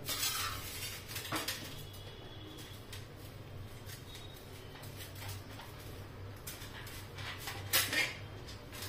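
Washed carrots being cut into slices with a knife for a carrot and chili pickle, giving a few quiet, irregular clicks and taps of the blade against the board amid a soft room background.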